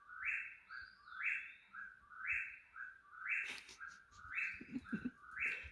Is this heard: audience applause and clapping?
no